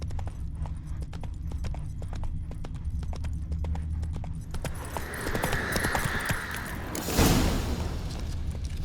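Roach, Geralt's horse in The Witcher 3, galloping with rapid, regular hoofbeats close by, then slowing as a whoosh and a heavy thump come in near the end.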